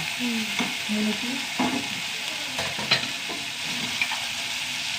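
Tomatoes sautéing in a pan, a soft steady sizzle with a few spoon scrapes and taps on the pan, moderately quiet and close, with faint hum-like tones in the background and no talking.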